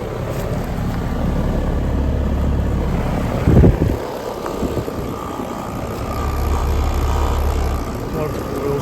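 An old 1994 1.5-ton apartment HVAC compressor unit in Austin, Texas runs with a fault, giving a steady, fairly loud low drone with a brief knock partway through.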